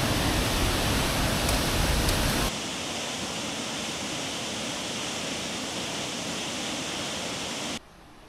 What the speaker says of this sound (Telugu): సో ఇలా బయటకు రాగానే మాకు చిన్న వాటర్ ఫాల్స్ లాగా కూడా ఉంది.